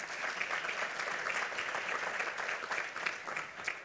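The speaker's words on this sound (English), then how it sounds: "how about a nice round of applause for Deb and her work" Steady audience applause fills a conference hall at a lunchtime keynote, a dense, even wash of many hands clapping without pause.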